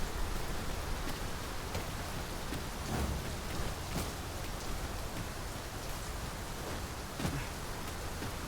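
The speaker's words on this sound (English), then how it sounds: "This rain grows more oppressive by the minute." Heavy, steady rain pours down in the open world of Dragon's Dogma 2, a dense continuous hiss with a few faint splashy swells and no voices.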